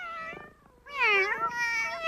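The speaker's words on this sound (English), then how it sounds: "the cat had just had kittens in Elna's sewing basket" A cat that has just had kittens in a sewing basket gives two meows, a short thin call followed by a louder, drawn-out wavering one, close and clear.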